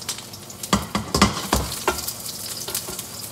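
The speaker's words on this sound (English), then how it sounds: "Almost like pan searing the mushrooms" Mushrooms sear in a hot pan for risotto, a steady close sizzle broken by several scraping stirs and shuffles of the pieces.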